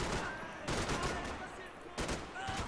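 Gunfire in the Max Payne 3 video game: quiet bursts of repeated shots in a short volley, with brief pauses between them.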